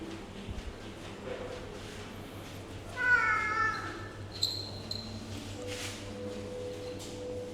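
A fat house cat at a Cambodian hotel lets out a drawn-out meow, then a shorter one, fairly quiet over a soft room hum.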